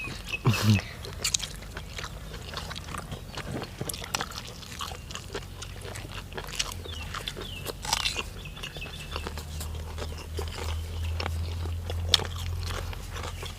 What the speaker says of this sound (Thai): หอยมันใหม่มันสดขับมาเลยกรอบเนาะ